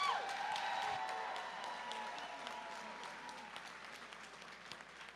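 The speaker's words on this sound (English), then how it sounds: "how about a round of applause for these 2 great fighters?" Audience applause at a mixed martial arts event after a three-round fight: steady, dense clapping from a crowd with cheers and a whistle near the start, gradually easing off in loudness.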